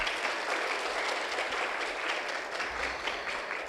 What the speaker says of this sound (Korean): 여러분 박수 한번 보내주실까요?